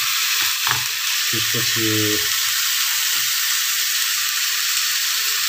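Onion dropped into hot oil for a Nepali totala pickle, giving a loud, steady sizzle and hiss throughout, with a brief voice speaking over it.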